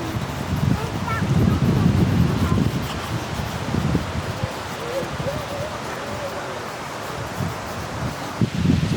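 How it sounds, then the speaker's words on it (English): Wind blowing through Yosemite Valley, a steady broad rush with gusts, heard outdoors with faint birds calling in the background. "a lot of wind going on today in the valley"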